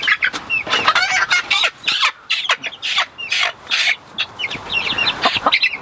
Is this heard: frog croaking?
no